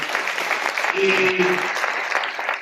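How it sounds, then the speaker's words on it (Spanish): An audience at the opening night of the 30th La Fila festival breaks into an ovation, steady clapping filling the room while a voice speaks briefly over it. "Ha sido un placer conocer también a Isabel, creo que se merece una fuerte ovación por su labor durante estos 30 años"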